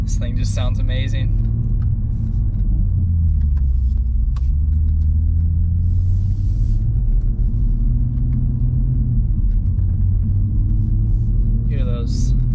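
A 2020 Toyota Supra rumbles steadily while driving with the windows up, a loud, continuous low engine drone and road noise heard from inside the cabin, with brief rattles near the start and end.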